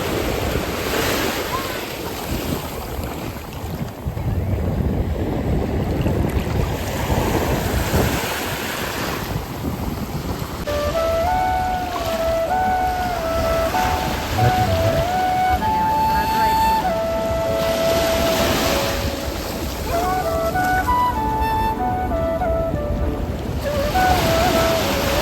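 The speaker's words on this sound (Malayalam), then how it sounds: "ഇപ്പോൾ ഇതാ തിരയൊക്കെ ഏകദേശം ഒന്ന് കാമായിട്ടുണ്ട് കേട്ടോ" Ocean waves break and wash up on a beach at sunset, a loud continuous surf roar with wind buffeting the microphone, while a person talks over it.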